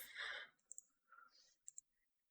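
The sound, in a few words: computer mouse clicking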